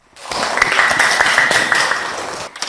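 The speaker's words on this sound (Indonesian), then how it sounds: "Tepuk tangannya dulu dong" An audience bursts into loud, dense applause that swells quickly, holds steady for about two seconds and then tapers off.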